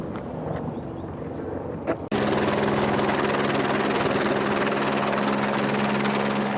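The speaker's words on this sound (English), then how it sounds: "the parade of red and silver helicopters swooped in for a landing" Several red and silver helicopters landing: loud, steady rotor thrum with a constant engine whine kicks in abruptly after a brief quieter stretch and continues close by.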